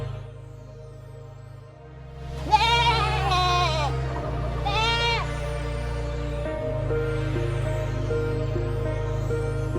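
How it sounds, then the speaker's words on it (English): A goat bleats loudly and close, a few drawn-out wavering calls separated by short pauses, over a steady low hum. "Goat."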